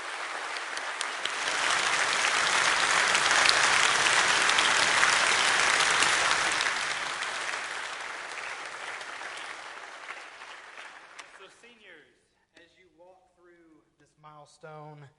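A church congregation on Senior Sunday applauds the graduating class of 2024, sustained dense clapping that swells, holds for several seconds, then tapers off before a voice begins speaking.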